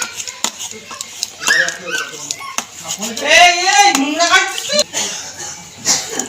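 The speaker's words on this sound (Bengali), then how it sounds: "সিম আর টমেটোটাকে ভালো করে মেখে নিয়েছি গরম বলে তাই একটু হাতা দিয়ে মেখে নিলাম" Beans and fried tomatoes being mashed with a ladle in a pot, giving repeated scraping and knocking metal clatter at close range, with a voice talking over part of it.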